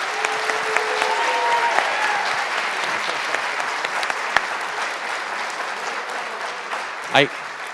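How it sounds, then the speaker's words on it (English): Panel audience at a summer summit livestream gives a round of applause, a steady wash of clapping filling the room for several seconds, with a voice briefly audible near the end. "Let's give our panel a round of applause"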